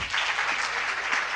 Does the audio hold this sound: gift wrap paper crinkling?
no